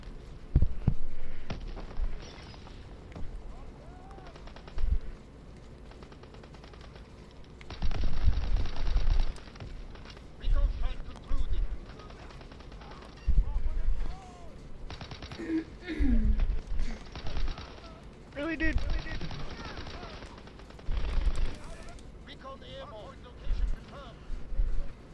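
A WW2 first-person shooter game spits out repeated bursts of gunfire, with machine-gun rattles and single shots coming in irregular clusters amid quieter stretches of footsteps and mechanical clatter, while a player talks now and then.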